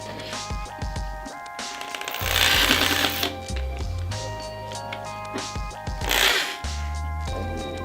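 A power drill whirs in short bursts, driving screws into a craft piece made from forks, with rising and falling motor pitch and clinks between runs.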